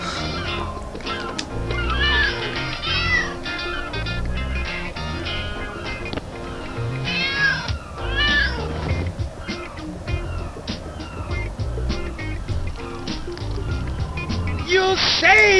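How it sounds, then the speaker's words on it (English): A cat meows in the Lego City Undercover video game, short mews mixed among busy game music and effects. "now we can get to the cat"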